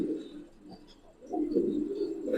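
Giribaz pigeons, silver khaki and army colored with cumin-spotted necks, coo softly in a low, throaty murmur that swells louder toward the end, heard close by with no talking.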